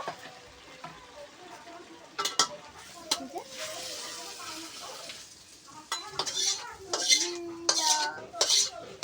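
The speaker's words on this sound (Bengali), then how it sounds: "এবার শাকটা ঢেলে নেব এই ডালাতে শাকটা ঢেলে নেব" Boiled greens are tipped out of a pan into a tray, with metal clanks, scrapes and clatter of the cookware coming in bursts over a quieter background, and a voice speaking in places.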